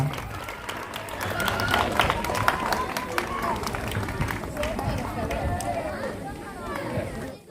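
An audience claps at a prize announcement, a steady wash of applause that runs the whole time, mixed with crowd chatter and voices.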